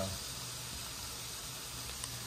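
Garlic sizzling in a pan for peanut noodles, a steady soft frying hiss with a low hum underneath, continuous and fairly quiet throughout.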